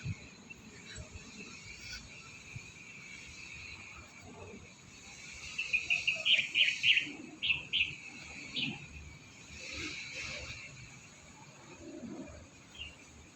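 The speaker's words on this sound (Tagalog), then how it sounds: "tahimik ang paligid, mga ibon lang maririnig" Birds chirp in quick high bursts against a quiet outdoor background, with a cluster of calls in the middle and a few scattered tweets later.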